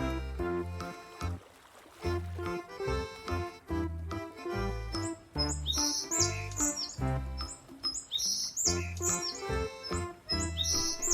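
Colorful birds chirp in bright, scattered tweets beside a river in a natural setting, layered over a rhythmic musical background.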